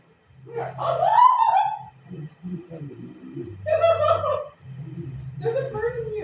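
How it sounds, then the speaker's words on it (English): Bird indoors giving turkey-like gobbling calls, several warbling bursts with pauses between, close and fairly loud; a person's low voice sounds underneath between the calls. "there's a bird in here"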